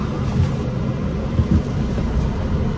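A 2023 Audi Q5 compact luxury SUV drives on the road, heard from inside as a steady low rumble of road and wind noise, even and continuous without talk.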